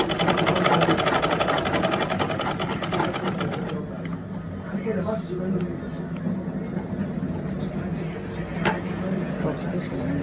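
A sewing machine runs a continuous top stitch along cargo pants trousers, a steady rapid whir up close, with a voice speaking faintly at points.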